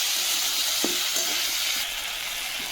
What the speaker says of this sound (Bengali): তো দেখো মশলাটা দিয়ে একটু কষে নেব।